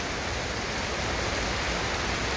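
Heavy rain pours down steadily at a fence installation site, a dense, unbroken hiss of falling water with no pauses and no voices.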